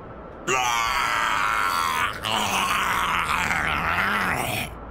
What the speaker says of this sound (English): the monster screams in pain